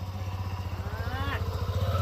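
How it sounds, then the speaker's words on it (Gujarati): A motorcycle engine idling close by with a rhythmic low putter, while people talk over it. "જો બાઈક લઈને આવ્યા આ બે જણા"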